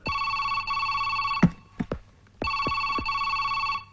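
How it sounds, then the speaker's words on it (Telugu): A telephone rings loudly in two long electronic bursts, separated by a short pause filled with a few soft clicks and knocks. "ఆ ఫోన్ రింగ్ అవుతోంది"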